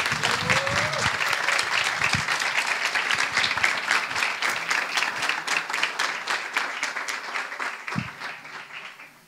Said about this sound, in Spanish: quiero que lo recibamos con un muy fuerte aplauso